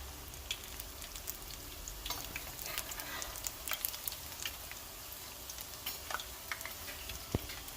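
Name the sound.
saltfish fritters frying in oil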